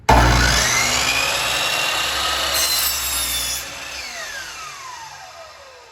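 A saw cuts through 2x4 lumber as skirting is trimmed for a kitchen table: one loud, close, continuous rasping cut lasting about four seconds, then fading as the blade winds down.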